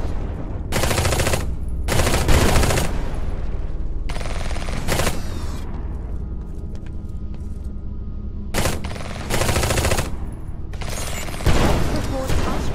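Rapid bursts of gunfire in the military shooter game Eximius: Seize the Frontline, loud and near, coming in several sustained volleys with short gaps between them and booming low impacts underneath.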